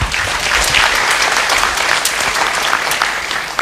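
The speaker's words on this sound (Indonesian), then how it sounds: "Wah, kita beri tepuk tangan." Audience applause at a talk-show event for International Disability Day, a dense, close burst of clapping that carries on steadily throughout with no voices over it.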